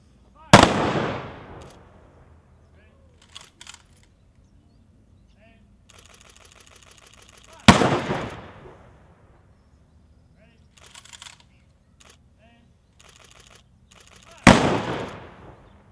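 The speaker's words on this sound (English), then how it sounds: "This time, we will have a 21-gun salute." Rifle volleys of a 21-gun salute at a Memorial Day ceremony ring out as three loud sharp cracks spaced several seconds apart, each echoing away, with faint clicks and murmurs in between.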